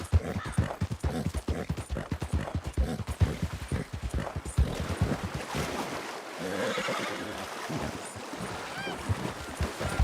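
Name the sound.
horse hooves clip-clopping, from the video game Red Dead Redemption II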